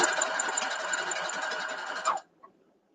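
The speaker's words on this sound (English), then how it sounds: "we're going to go ahead and sew this down real quick" A sewing machine stitches a quilt block for a nine-patch pattern, running at a steady, close, busy whir for about two seconds before stopping abruptly, followed by a faint click.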